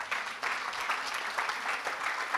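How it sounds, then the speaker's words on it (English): Applause from the audience at a food tech congress grand finale as an award winner is announced, a steady, moderately loud wash of clapping with no talk over it. "big applause for Irki Lee Korhonen, the winner of New Protein"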